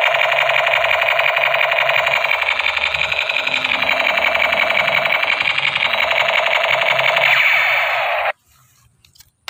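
A toy MP5 light gun plays a loud, continuous electronic buzzing rattle of rapid-fire sound effects for about eight seconds, then stops suddenly.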